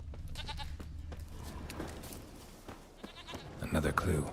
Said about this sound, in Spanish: Escucho la cabra por ahí.